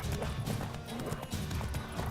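Geralt's horse Roach in The Witcher 3: Wild Hunt, hooves clip-clopping in a quick galloping rhythm with a whinny breaking through, close and loud, with no talk over it.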